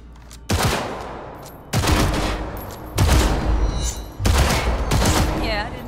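Rapid gunfire during tactical target practice in Cyberpunk 2077, four loud bursts of automatic fire with booming reports and ringing tails, each burst a second or so long, with a voice heard faintly underneath.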